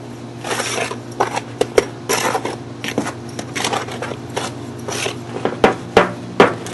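Hands mix dry bonsai fertilizer cake ingredients, giving repeated gritty rubbing and scraping strokes with occasional sharp taps, close and fairly loud over a steady low hum.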